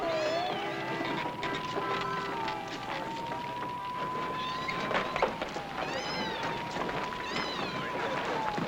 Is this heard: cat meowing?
yes